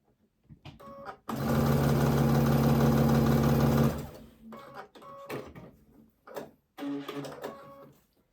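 A sewing machine stitches quilt seams for a Halloween quilt in a steady, loud mechanical whir lasting a few seconds, with talking before and after the run.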